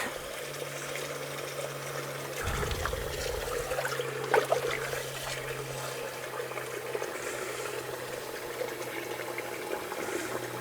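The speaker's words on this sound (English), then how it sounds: "Get some water in the sink." Water pours steadily from a tap into a sink, a continuous running trickle with a faint background hum, moderately close and with no talking.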